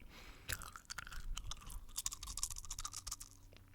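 Close-miked gum chewing for ASMR, with wet smacks, pops and crackles in a quick irregular rhythm, intimate and quiet with no speech.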